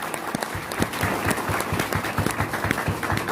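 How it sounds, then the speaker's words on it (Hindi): Audience at a business seminar claps vigorously, a dense, steady burst of applause with individual close claps standing out throughout the short stretch. "एक बार जोरदार तालियां बजा दीजिए"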